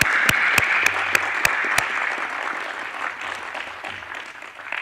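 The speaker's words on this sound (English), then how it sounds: "I would like everybody to give them a round of applause." An auditorium audience at an astronomy union general assembly ceremony breaks into sustained applause, a dense roar of many hands with a few sharp, close claps standing out early, gradually easing off over several seconds.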